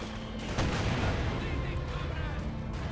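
A Soviet mortar in Company of Heroes 2 fires on German positions amid battle noise, with a sharp thump near the start among dense rumbling explosions and gunfire, under a commentator's voice.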